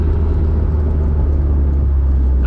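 A Honda S2000 with a K&N intake creeps through stop-and-go traffic, its engine giving a steady low rumble and whir from inside the cabin, even and unbroken with no talking.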